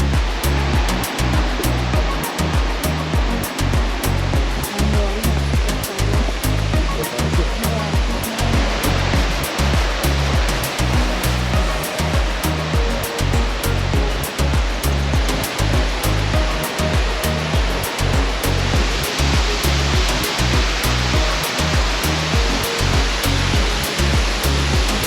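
A steady, loud rush of falling water fills the whole clip, a broad continuous roar with a faint rhythmic pulsing underneath and no voices.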